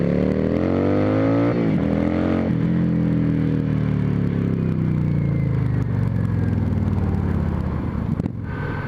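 Yamaha V-Star XVS650A Classic motorcycle with an aftermarket exhaust, its engine loud and close, rising through a few throttle blips and gear changes, then settling into a sustained cruising drone that cuts off abruptly near the end.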